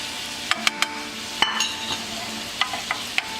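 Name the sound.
butter sizzling in a frying pan for steak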